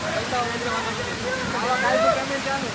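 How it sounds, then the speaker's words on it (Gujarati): Steady rushing water of a waterfall at Jata Shankar temple on Girnar, continuous and fairly loud, with voices talking over it. "હા અહીંયા પાણીનું ધોધ જાય છે ને"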